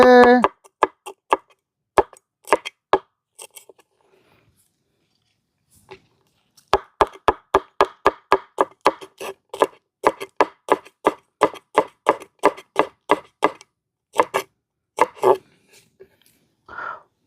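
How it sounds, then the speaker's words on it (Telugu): A knife taps sharply and repeatedly against a chopping board while green chillies are cut, in a quick rhythmic run of close, crisp chops broken by short pauses. "ఒక రెండు మిరగాయలు అయితే కట్ చేసుకుందాం అండి"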